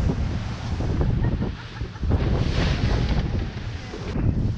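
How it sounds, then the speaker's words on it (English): Strong wind buffets the microphone on open water beside pilings, a loud continuous roar with gusting surges, mixed with choppy waves slapping around a fishing boat. "This wind and chop is gonna make things dicey"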